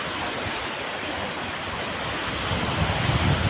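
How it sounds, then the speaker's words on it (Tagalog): Broad rushing ocean surf mixed with wind, steady and loud, swelling slightly toward the end, heard out at sea on a fishing trip in fairly large, windy waves. "Medyo malaki guys ang alo"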